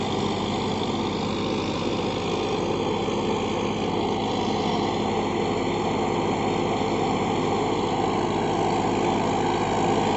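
Steady, loud diesel engine roar from a 2021 Farmtrac 60 Supermaxx 55 hp tractor pulling an 11-tine cultivator in a field, a continuous close drone with deep low-end rumble and no voices.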